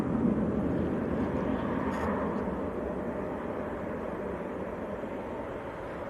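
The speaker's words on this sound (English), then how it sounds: "Next to land, Ryanair from Katowice." Ryanair Boeing 737-800 landing at Manchester Airport in a breeze, a steady broadband engine roar at moderate distance that stays even throughout with wind noise.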